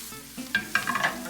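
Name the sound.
baby spinach and kale sizzling and being stirred in pan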